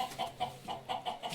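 A caged rooster at a night-time grill shop clucks in a quick, even series of short calls, moderately close and fairly soft, with no speech over it.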